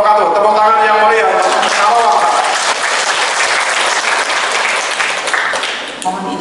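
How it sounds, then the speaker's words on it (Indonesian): Lively applause from workshop participants in Karawang swells over a voice that carries through the opening seconds, then continues as a full, close clapping wash that thins slightly near the end. "Tepuk tangan yang meriah"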